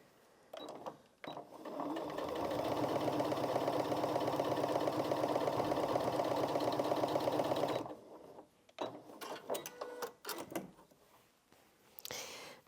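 A Janome MC 6700p sewing machine stitches through four layers of fabric in one steady, loud run lasting several seconds, with brief handling clicks and rustles before and after.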